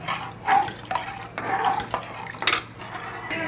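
Coarse rock salt being stirred into a pot on the stove, a spoon scraping and clinking against the metal in several uneven strokes, close and fairly quiet, with a faint watery slosh underneath.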